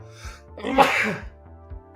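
A single close, loud human sneeze with a quick intake and sharp burst, heard alone over a faint low hum.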